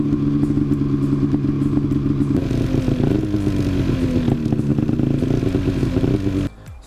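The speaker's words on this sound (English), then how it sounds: "The next thing you're going to want to do is actually start the sled" A snowmobile engine runs loud and close at a steady, rough idle with rattling overtones, then cuts off abruptly just before the end.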